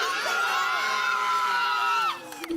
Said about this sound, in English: will the applause work?